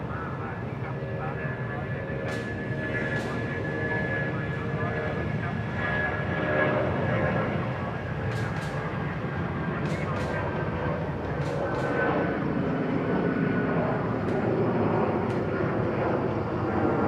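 Steady, loud airplane engine roar at Bangkok Suvarnabhumi Airport fills the whole stretch with a continuous rumbling drone and a faint whine, while a person talks over it and brief clicks pop in now and then.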